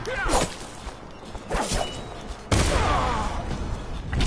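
Gunfire in the video game Dishonored, a few sharp shots and whooshing cracks, with a heavy blast near the middle followed by a sustained rumbling tail.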